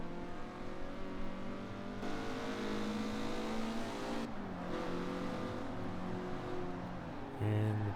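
A car laps a test track in Forza Horizon 4, its engine holding a steady sustained note that shifts pitch as it exits a corner with slight oversteer, continuous and fairly quiet.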